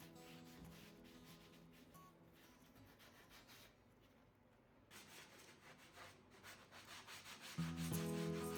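A wooden tabletop being sanded by hand, faint repeated rubbing strokes in a quiet workshop, growing somewhat louder and more scratchy toward the end.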